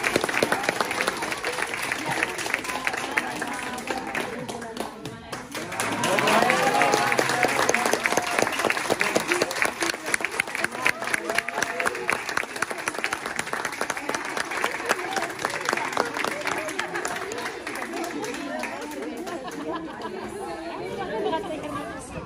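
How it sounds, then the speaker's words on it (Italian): Audience applause after a class 3B school recital, a dense steady round of clapping rising after about six seconds and holding strong, with chatter and voices mixed throughout. "E l'applauso è meritatissimo"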